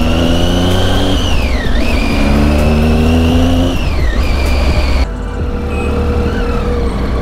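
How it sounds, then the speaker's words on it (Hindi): Triumph Tiger 800 motorcycle engine droning steadily under load while riding, loud and close, its pitch dipping briefly twice as the revs change and easing slightly near the end, with no talking. "शांति में राइड हो रही है और एक ही आवाज़ आ रही है टाइगर के इंजन की"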